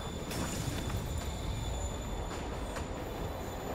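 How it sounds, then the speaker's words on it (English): A moving train in Marvel's Spider-Man on PS4 rolls past with a steady dense rumble, rail noise and faint clacks, heard fairly quietly with no talk. "Train, train, train. Train moving."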